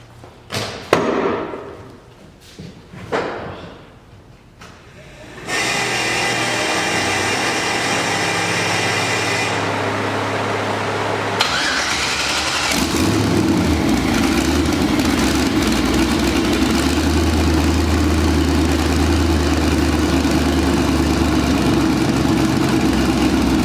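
Twin-turbo Mazda RX7 brought back after two years: a few sharp cranking attempts and sputters, then the engine catches and settles into a loud, steady idle that continues for most of the clip, with a brief change in pitch partway through.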